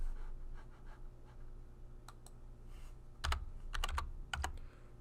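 Computer keyboard typing in a quiet room, coming in short bursts of quick clicks with pauses between them, moderately close and fairly soft.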